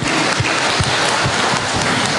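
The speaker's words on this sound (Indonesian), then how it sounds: "Tepuk tangan untuk panjenengan semuanya" Church congregation at a GKJW Purwoharjo women's Christmas celebration clapping, a loud, dense, rain-like wash of applause that holds steady throughout.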